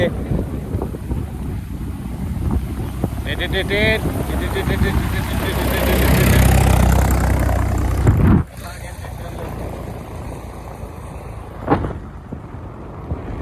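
A tractor engine rumbles loudly and roughly with wind buffeting the microphone, then the noise drops sharply to a quieter idle.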